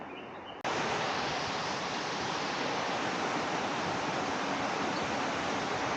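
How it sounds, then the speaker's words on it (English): Chet Sao Noi Waterfall in Thailand roars in a constant broadband rush of falling water, loud and close, starting abruptly after a brief quieter moment and holding steady without voices. "So now we are at the Chet Sao Noi Waterfall."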